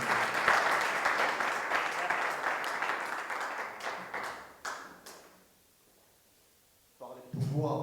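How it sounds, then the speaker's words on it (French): Audience applause at a press conference, dense clapping that thins into scattered claps and fades to near silence before a voice begins speaking. "sous vos acclamations, je vous en prie"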